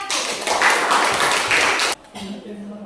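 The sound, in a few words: applause for group 1 in a classroom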